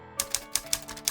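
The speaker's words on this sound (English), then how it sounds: "I have never grown tired of the sound of typewriter keys and a resetting carriage." Typewriter keys struck in a quick, uneven run of sharp mechanical clacks, close and loud, with no voices.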